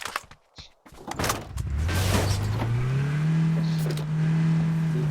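A vehicle in NewState Mobile starts after a few sharp clicks and then drives, its engine revving up to a steady, loud hum that holds close and continuous.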